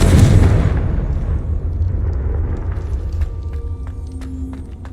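A loud blast from the Confringo explosive spell in Hogwarts Legacy, a heavy boom at the start that rumbles and fades over several seconds with small scattered crackles after.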